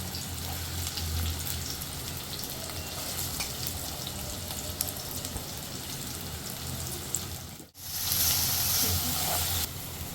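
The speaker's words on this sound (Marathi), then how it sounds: "सर्वात आधी आपल्याला कांदा टाकून घ्यायचा आहे" Onions sizzle steadily in hot oil in a pan, a continuous close hiss that cuts out briefly near the end, then returns louder and brighter.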